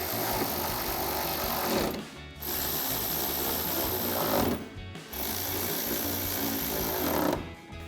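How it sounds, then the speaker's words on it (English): Ratcheting socket wrench with an 8mm socket tightening mounting bolts on a 2019-2023 RAM 1500 halogen projector headlight, a loud rapid mechanical whirring in three long bursts separated by brief pauses. "Next, we can grab our 8mm socket to tighten these all down."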